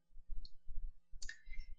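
A computer mouse clicks on a link with a handful of soft, close, dry clicks in quick succession, separated by brief gaps in an otherwise quiet room.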